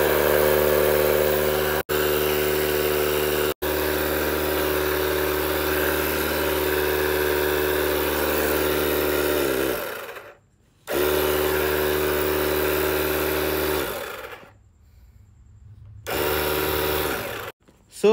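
A portable power bank air pump runs with a steady, loud motor drone while inflating an inflatable doll, cutting out briefly twice before restarting and finally stopping.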